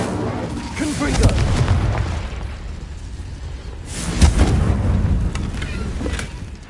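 Confringo explosion spell blasts in the Hogwarts Legacy video game: two deep, rumbling booms land a few seconds apart, each rolling off into a low, heavy tail, with a voice speaking amid the effects.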